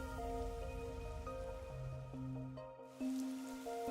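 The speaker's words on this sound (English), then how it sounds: "Is it always raining?" Steady rain falls in the noir city of the video game Master Detective Archives: Rain Code Plus, a soft continuous hiss beneath sustained melodic background music.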